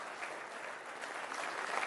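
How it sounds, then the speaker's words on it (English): Audience applause greeting a doctor at a conference talk on heart health, a steady, fairly faint patter of clapping that holds evenly and swells slightly toward the end. "A warm round of applause"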